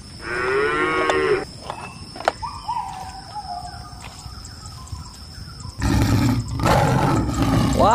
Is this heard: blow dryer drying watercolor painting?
no